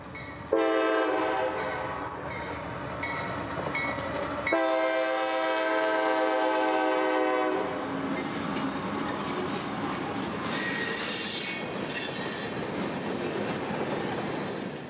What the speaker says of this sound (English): As the train would roll by Lutz